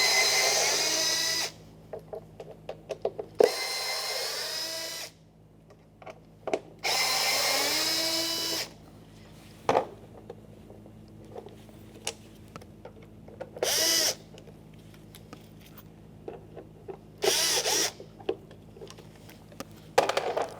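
A power drill with a T20 Torx bit backs out mounting bolts from a Jeep Grand Cherokee power window motor in several separate whirring runs of a few seconds each, close and clear, with small clicks and handling noises between them.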